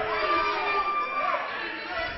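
A wrestling arena crowd in the Steel Domain roars and shouts in a dense, continuous wash of cheering voices, loud and close throughout.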